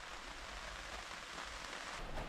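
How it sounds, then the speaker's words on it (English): Steady, dense rain pouring down outdoors, a continuous even hiss with no voices. "It's pouring down, isn't it?"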